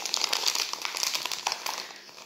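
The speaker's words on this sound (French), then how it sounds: "Je déteste emballer ça par contre." Gift paper being crumpled and folded while wrapping a soft toy: dense, fast crinkling that goes on without a break, close and fairly loud, with no talking.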